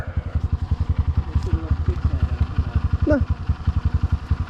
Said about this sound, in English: I'll slowly let off the clutch and give it a little bit of gas.